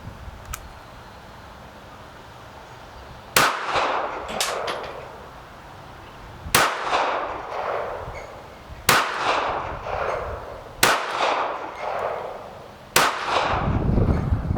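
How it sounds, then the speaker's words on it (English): Five sharp gunshots from a KelTec PMR 30 .22 Magnum semi-automatic pistol fired at a target seven yards away, spaced irregularly about two seconds apart, each crack loud and close with a short ringing tail. "All right, there's 5 shots."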